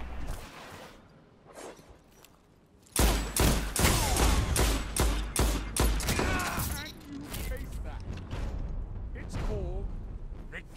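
Video game gunfire with sniper shots: after a quiet start, dense rapid bursts of loud shots erupt and continue nearly nonstop, with players talking over the action.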